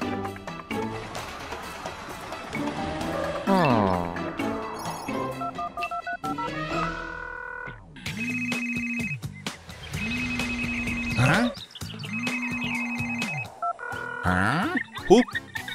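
Telephone dialing tones sound in a cartoon about a patrol car in a car city, with repeated bursts of steady beeping tones alongside music and talk.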